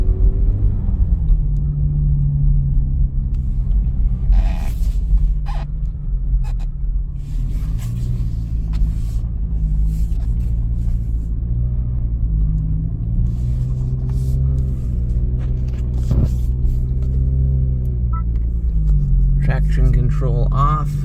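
A 2023 Acura Integra driving on a fully snow-covered road, with a loud, steady low engine and road rumble that rises slightly as it speeds up, and scattered clicks and knocks inside the cabin.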